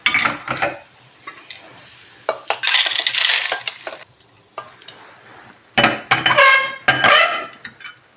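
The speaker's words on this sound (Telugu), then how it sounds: "ఇప్పుడు వీటిని ఒక గిన్నెలోకి తీసేసుకుందాం." Golden-brown fried lentils are scooped out of a pan into a bowl for coconut chutney: bursts of metal spoon scraping and clinking against cookware, separated by short quiet gaps.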